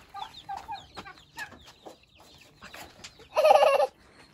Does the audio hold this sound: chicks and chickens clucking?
yes